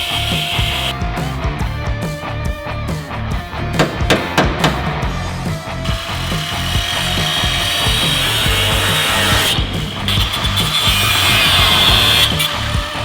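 A cutoff wheel grinds steadily through metal while installing bump stops on a Toyota Tacoma, a harsh continuous abrasive roar that follows a run of sharp, rhythmic knocks.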